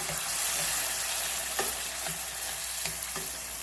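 Fresh diced tomatoes sizzle and fry in a hot pan for lamb stuffed peppers, a dense steady crackle with a few soft scrapes of stirring, close up and without speech.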